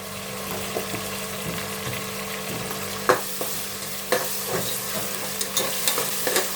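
Tomato with homemade ginger garlic paste fries in a pan for avarekalu pulao, a continuous close sizzle punctuated by sharp spoon scrapes and knocks against the pan.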